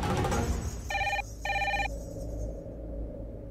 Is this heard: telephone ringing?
yes